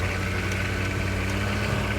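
A Humvee's naturally aspirated 6.2 diesel drones steadily while driving, a loud, continuous low rumble with a knocking texture and no break.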